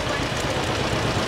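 Tractor engine running at the Midwest Old Threshers Reunion show, a steady close mechanical rumble with knocking idle texture, continuous and loud throughout.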